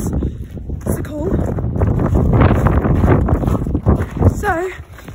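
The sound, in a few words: strong wind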